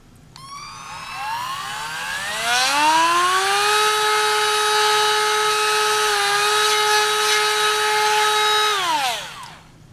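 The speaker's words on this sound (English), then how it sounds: "I'm going to drill out that hole." A power drill bores out a hole, its whine rising in pitch as the motor spins up, holding a steady high tone, then winding down.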